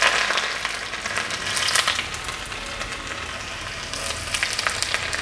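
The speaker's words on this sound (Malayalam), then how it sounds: "കടുക് പൊട്ടിയിട്ടുണ്ട്. അപ്പോൾ നമുക്ക് വെളുത്തുള്ളി ആഡ് ചെയ്ത് കൊടുക്കാം." Chopped garlic goes into hot oil where mustard seeds have already popped, in a home kitchen making pickle, giving a steady, close sizzle and crackle that runs throughout with no talking.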